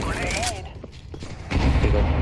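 Gunfire in a first-person shooter video game plays as a dense, loud burst, fading briefly before rising again into steady, continuous firing.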